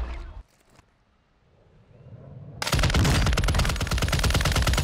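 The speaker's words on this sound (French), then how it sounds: "Je lui tire dessus une balle, deux balles, trois balles, cinq balles, six balles dans la tête" Automatic gunfire in the video game Warzone 2: after a brief opening blast and a quiet stretch, a loud, sustained burst of rapid machine-gun shots erupts and continues to the end.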